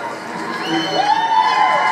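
A NASCAR Xfinity race crowd at New Hampshire Motor Speedway cheers in a broad, steady roar, loud and distant-sounding, with a faint rising whistle over it.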